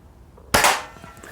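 A Daisy Model 99 BB gun fires once at a target can, a single sharp, loud crack after a quiet moment, followed by a brief fading ring.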